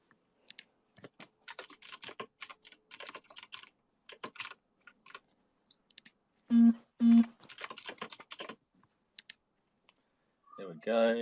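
Typing on a loud computer keyboard: rapid bursts of sharp clacking keystrokes in irregular runs, with a few heavier key presses and brief pauses, close and fairly quiet, with no one speaking over it.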